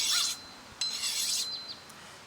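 A scythe stone rasps along the flat of a scythe blade's upswept edge in two long, close scraping strokes, followed by a few short, lighter touches, with no voices.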